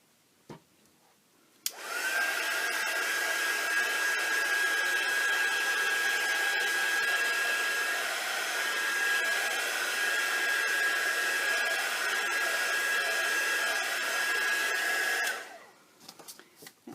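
A hair dryer blows on wet paint on an art journal page, a loud, steady whirring blast with a high whine that runs for about thirteen seconds and then switches off. There is no talking.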